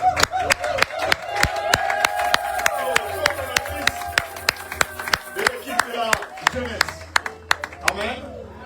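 Church congregation clapping for a former member named Prisca, a steady run of sharp claps through the whole stretch, close and fairly loud, with a voice talking over the start.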